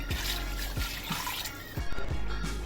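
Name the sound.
pouring two glasses of water into potato curry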